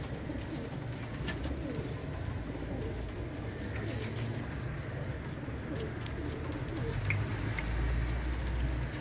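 Domestic pigeons coo softly in a low, steady murmur throughout, with faint bird chirps above and a constant background hum; no talk.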